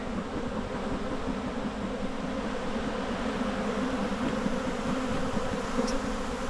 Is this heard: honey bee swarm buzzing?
yes